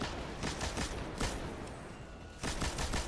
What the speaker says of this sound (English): if you got to break a shield with a machine gun, you can do it